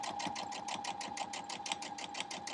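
A sewing machine stitches a straight seam through fabric on a fusible foundation, its rapid, even mechanical chatter up close and continuous throughout.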